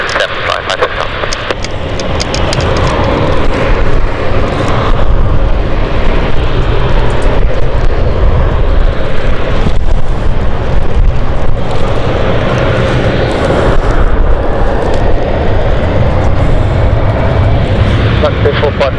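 An airliner takes off from the runway at London City Airport, a loud, broad engine roar building quickly and holding steady for the whole stretch, with radio voices faintly under it.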